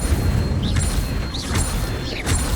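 Incendio fire spells cast in Hogwarts Legacy, a few short whooshing bursts spaced about a second apart, each with a rising swish, over a steady low background rumble.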